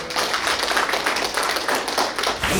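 A hall full of guests at an award ceremony gives welcoming applause, dense continuous clapping filling the room at steady volume throughout, with no voices heard.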